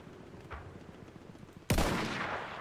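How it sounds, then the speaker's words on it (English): A single sharp gunshot goes off close by in the World War I shooter game Battlefield 1, bursting out after a stretch of low rumbling background and then trailing off. "I like the way you shot at that tank no matter what."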